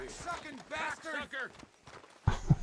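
Horse hooves in a video game: two low, heavy hoof thuds land close together near the end, right after a stretch of steady talking.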